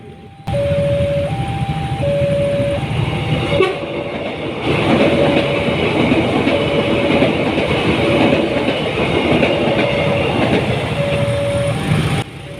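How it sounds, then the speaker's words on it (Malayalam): A small six-coach train passing a railway crossing in Indonesia, with a repeating two-tone crossing bell, then the loud steady rumble and clatter of the carriages going by nearby. "വെറും ആറ് കോച്ചുകൾ മാത്രമുള്ള ഒരു കുഞ്ഞൻ തീവണ്ടി വണ്ടി കടന്നുപോയ"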